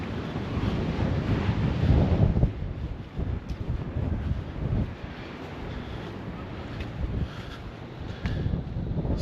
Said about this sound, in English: Still getting battered by the wind